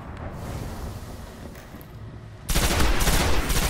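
Automatic gun firing in Destiny multiplayer, a dense burst of loud rapid shots breaking in abruptly after a stretch of quieter ambient noise.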